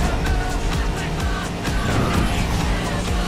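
Racing car engine drones loudly and steadily in Asphalt 8: Airborne, a constant roar with faint whooshes of passing traffic layered on top, with no pauses or breaks.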